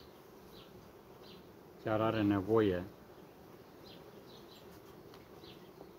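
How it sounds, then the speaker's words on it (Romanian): Steady low buzzing of bees fills the background throughout, with a brief spoken phrase breaking in near the middle. "O să vedem dacă albina vine la această turtă"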